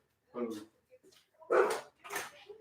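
Pet dogs bark indoors in a few sharp, close bursts separated by short quiet gaps, with some yips and whimpering between them.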